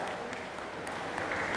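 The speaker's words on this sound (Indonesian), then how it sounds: "Tepuk tangan dong untuk banyak." Audience clapping at a school motivational session, a short, steady burst of mixed claps filling the room at moderate level with no voices over it.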